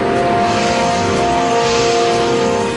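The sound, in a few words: Bell 412 EP helicopter flying over Manhattan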